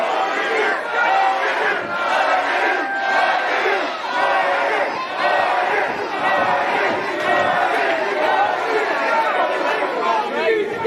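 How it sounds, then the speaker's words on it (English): Crowd at a live Chaotic Wrestling event chanting and cheering, a loud, continuous wall of voices with rhythmic chant pulses and shouts sustained for the whole stretch. "We have a split crowd, ladies and gentlemen."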